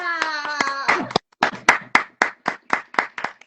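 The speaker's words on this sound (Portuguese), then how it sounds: "Palmas para a história!" After a brief spoken line, a small group at a storytelling workshop claps in a burst of about a dozen sharp, fairly rhythmic hand claps, close and clear, ending on isolated single claps.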